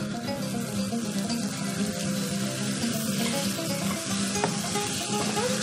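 Fresh tomatoes for a Moroccan lamb tagine hiss in a hot pan with a steady, even sizzle that holds throughout, with no voices.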